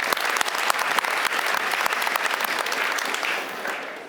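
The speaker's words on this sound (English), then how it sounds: "Let's give him a big round of applause." Audience applause at a technology conference on the future of search, dense steady clapping from a large crowd that swells briefly and then tapers off toward the end.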